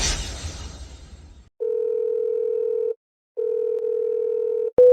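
A telephone rings on and goes unanswered, giving two long, steady electronic tones with a pause between them after a short noisy passage at the start.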